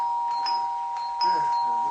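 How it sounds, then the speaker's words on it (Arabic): A doorbell chimes with a bright, sustained ring in an Egyptian radio drama, sounding twice while voices talk over it. "دوس الجرس"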